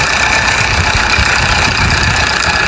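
Mahindra Arjun 605 tractor hauling two 18-foot trolleys up a sand dune, its engine droning loud and steady at close range with a low, rough labouring rumble throughout.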